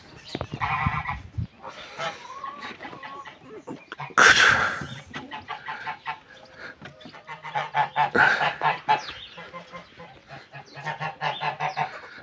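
Mamut geese honk while their eggs are being collected. Loud, harsh honks come in bursts, one near the middle is especially strong, and softer calls and rustling are heard between them.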